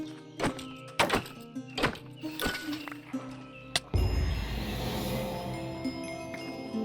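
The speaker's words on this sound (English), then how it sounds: "I go back to chopping down the tree" A tree being chopped down in modded Minecraft, a series of hollow wooden thunks at an uneven pace, followed by a denser burst of game sound and rumbling.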